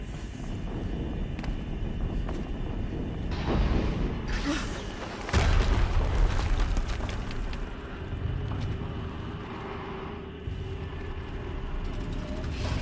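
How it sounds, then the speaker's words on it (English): A deep explosion booms in Horizon Zero Dawn, rising out of a steady rushing rumble with one strong surge partway through before settling back into the low roar. "Another explosion."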